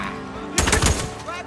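A short, loud burst of rapid gunfire in the game Days Gone, several quick cracks packed into half a second and then cutting off, over a low ambient game hum.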